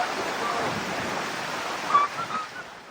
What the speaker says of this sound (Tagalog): makikita kung gaano kataas ang tubig sa Labo River